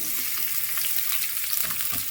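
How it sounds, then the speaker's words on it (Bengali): Cauliflower and potato pieces, seasoned with salt and turmeric, fry in hot oil in a wok, giving a steady, close, dense sizzle with small crackles throughout and no voices. "লবণ আর হলুদ দিয়ে ফুলকপি আলুটাকে আমি ভেজে নেব।"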